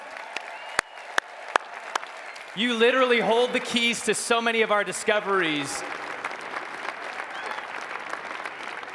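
An audience at a RootsTech genealogy event applauds throughout, with a constant rustle of clapping under someone speaking over a microphone.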